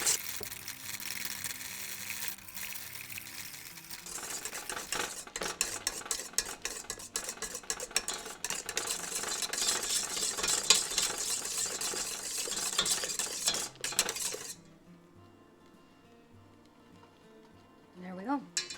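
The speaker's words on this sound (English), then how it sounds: "We're going to whisk that together until the sugar becomes dissolved." Egg whites and sugar are whisked in a mixer bowl over heat with a rapid, steady scraping and clinking, while someone talks over it before the noise cuts off.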